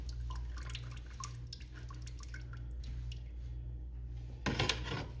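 Liquid glaze is poured slowly to fill a ceramic piece in a pottery studio, giving soft, close drips and trickles over a steady low hum, ending in a brief louder splash.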